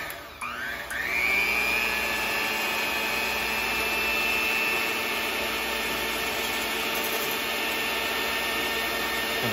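A motorized whisk churns two-year-expired milk in a container, a steady high whirring whine that starts abruptly and runs continuously and close for several seconds.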